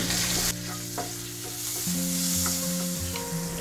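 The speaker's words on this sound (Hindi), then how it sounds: "बटर मेल्ट हो गया है लहसुन डालेंगे मिलाएंगे" Garlic frying in melted butter in a hot pan gives a steady, close sizzle with light stirring noises, no voices, for the whole stretch.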